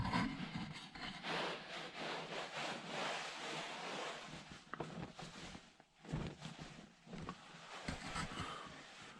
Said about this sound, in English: let's clean down the work surfaces